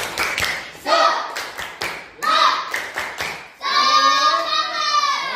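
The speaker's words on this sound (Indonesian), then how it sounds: "Oke, tepuk semuanya, tepuk semangat." Classroom students clap together in a rhythmic chant, with patterned bursts of claps and taps mixed with children's voices, ending in a sustained stretch of group vocalizing.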